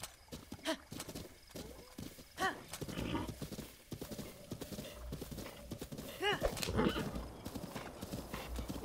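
A horse clip-clops at a gallop in the video game Zelda: Breath of the Wild, with rhythmic hoofbeats and a whinny over busy game sounds and music, while a person talks throughout.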